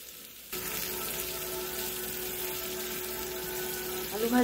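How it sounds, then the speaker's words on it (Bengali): Potatoes and fish fry in oil in a pan, producing a steady, close sizzle that starts after a brief moment and continues throughout. "দেখি ওদিকে আলু ভাজা আর মাছ ভাজা কত দূর হলো।"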